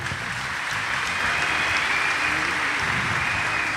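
Steady, dense applause from an audience, loud and continuous throughout with no pauses.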